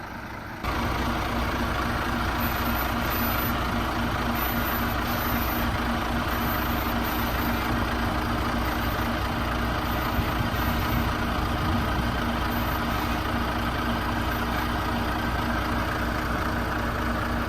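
An HGV tractor unit on a C+E Class 1 coupling exercise raises its air suspension to lift the trailer off its legs onto the fifth wheel, with a steady, loud diesel idle and hum running throughout and no talk.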